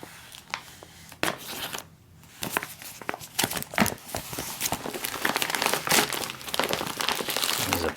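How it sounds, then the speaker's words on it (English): A 2019 MRE Nation Tuscan beef pouch with a failed peelable seal is cut open, with close crinkling of the plastic bag, snips and rustling handling that grows busier toward the end. "Yep, we have a fail on the peelable seal. So we'll just go ahead and cut this one open."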